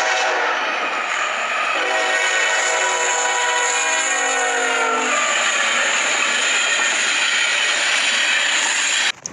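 A Norfolk Southern train passes close and loud, its horn blaring in a long sustained blast over the rumble and rattle of rolling cars, with no talk.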